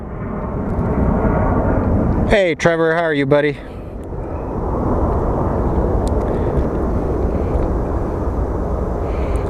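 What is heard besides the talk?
CRJ jet plane departing runway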